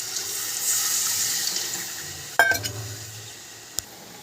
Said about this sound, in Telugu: ఇప్పుడు ఇందులో కాస్త వాటర్ పోసుకుందాం